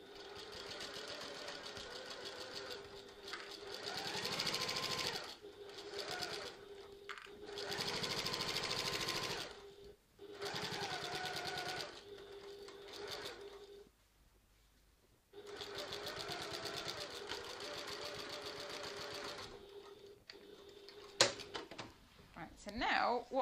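Sewing machine stitching a tote bag seam in bursts of steady whirring, pausing between runs, with someone talking over it.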